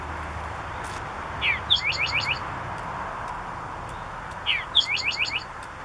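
Eastern Towhee singing its full song outdoors, two clear phrases each opening with a sharp note and ending in a quick rapid trill, set against a steady background hiss with no talking.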